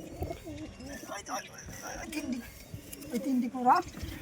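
A pigeon coos close by in repeated low, rolling phrases, with a murmur of voices and rustling in the background.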